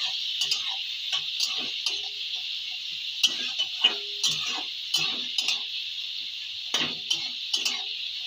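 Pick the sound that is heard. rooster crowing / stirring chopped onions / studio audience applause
stirring chopped onions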